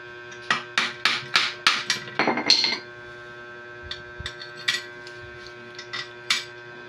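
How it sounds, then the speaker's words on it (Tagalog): Screws being fitted on a water pump during repair after a noisy bearing was replaced: a quick series of sharp metallic clinks and taps, about a dozen close together, then sparser faint clicks over a steady mains hum. "ilalagay na natin yung mga tornilyo para matesting na kung okay ba"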